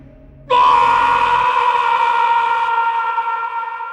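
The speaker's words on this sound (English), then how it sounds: "whenever Raz dies, he happens to make the most, like, over-dramatic, like, screaming sound" Raz's over-dramatic death scream from the PS1 game Over Blood, a single loud, sustained high wail that starts abruptly and holds steadily for several seconds before trailing on.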